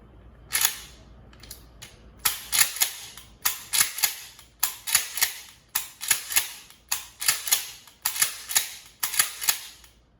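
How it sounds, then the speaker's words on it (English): A firearm is fired in a series of sharp, loud reports: a couple of isolated shots at first, then about fifteen more in a fairly steady rhythm, each cracking close by with a brief echoing tail. "I use the primary hand to flick the safety off, and then it's just a matter of firing."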